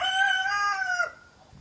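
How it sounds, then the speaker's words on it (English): A single rooster crows loudly and clearly, a drawn-out cock-a-doodle-doo that trails off into quiet. "the blooming cockerels is making a racket"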